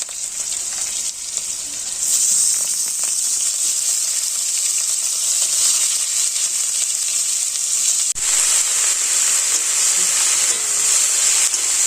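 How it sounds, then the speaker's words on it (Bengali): Onions frying in a nearly dry pan after green chillies, a loud steady sizzle and hiss with occasional stirring scrapes, close and continuous with no talk. "পেঁয়াজগুলো একদম লাল লাল করে ভেজে নিতে হবে"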